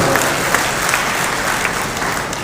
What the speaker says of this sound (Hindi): अरे मोदी जी के लिए ताली मार दो